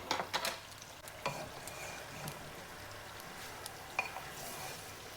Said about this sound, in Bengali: মাছটা আমার আস্তে আস্তে ভাজা হোক